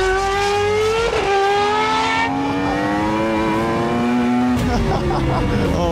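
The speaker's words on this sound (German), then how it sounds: "Wir haben Fabio Wibmer und Max Verstappen in einen Formel-1-Wagen mit zwei Sitzen gesteckt und" A two-seater Formula 1 car roars loudly and continuously on a race track, its engine pitch climbing steadily through a gear, dipping with an upshift and climbing again, close and unbroken throughout.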